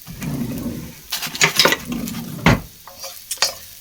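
Fish pie ingredients, including aniseed-scented fennel, cooking down in a pan: a low sizzle broken by sharp spatula scrapes and clinks of utensil on pan, close and fairly loud, no talking.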